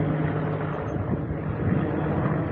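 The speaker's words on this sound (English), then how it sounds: "Hey, a helicopter." A helicopter flies overhead near a beach, its steady loud rotor and engine drone filling the whole stretch without any talk.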